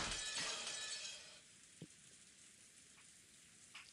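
Rain falls in the visual novel game Umineko When They Cry as a dense, hissing wash that starts strong and fades to a faint steady patter, with a few scattered drips and taps.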